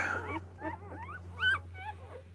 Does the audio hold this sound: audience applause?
no